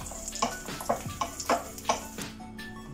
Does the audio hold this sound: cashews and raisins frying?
yes